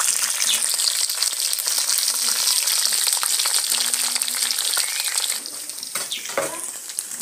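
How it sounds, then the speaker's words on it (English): Food deep frying in oil in a village kitchen, a loud continuous crackling sizzle that eases slightly toward the end, with faint stirring clinks and no talk. "fry that one. Let it cook so that we move to the next step."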